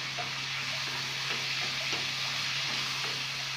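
Peas frying in a pan with roasted spices, a soft continuous sizzle and hiss with faint stirring, steady and fairly quiet without any talking.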